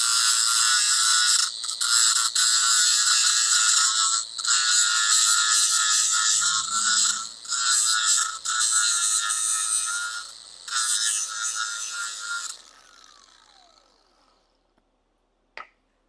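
A grinder works down a flared, drilled metal edge, a loud, bright, continuous whine broken by short dips as the tool lifts off the metal. The whine winds down near the end, followed by a single sharp click.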